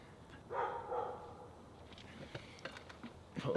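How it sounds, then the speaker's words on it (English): A dog barks a few times at moderate distance, short yappy bursts separated by quieter gaps, against low background noise. "excuse the dog because apparently he's not going to stop"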